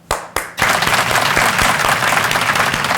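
A church congregation at Sunday worship gives a loud, sustained round of applause in thanks and praise, starting with two sharp claps before the dense clapping swells and holds steady.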